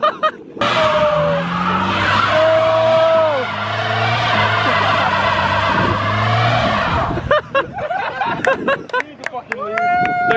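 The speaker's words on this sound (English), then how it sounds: "There goes the tread on one of your tires" Car tires skid and squeal loudly and continuously for about six seconds, with a rising whine over the engine noise, followed by scattered clatter and excited voices talking.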